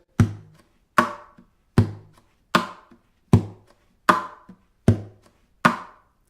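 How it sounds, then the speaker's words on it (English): Eight evenly spaced percussive knocks on an acoustic guitar body, alternating deeper thumps and brighter slaps in a steady rock beat, close and clear. "create some beats or grooves on the body of our guitar"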